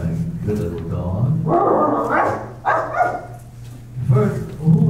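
A small dog at a country house in a stage production of Rebecca gives short yips and whimpering barks, close and fairly loud, mixed with people talking.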